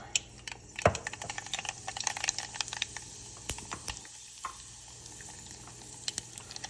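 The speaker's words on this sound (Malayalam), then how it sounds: "കടുക് പൊട്ടി വന്നിട്ടുണ്ട്." Mustard seeds pop in hot oil in a pan while a salmon pickle is being made, giving rapid, irregular crackles and sharp ticks over a quiet sizzle, close and with no voices.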